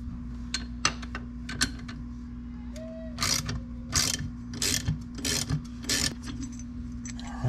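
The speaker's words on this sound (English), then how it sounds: "using the 10 millimeters wrench," A 10 mm ratchet wrench works on a thruster plate of a 2022 Yamaha AR195 boat, giving a series of close, crisp ratcheting clicks in short bursts over a steady low hum.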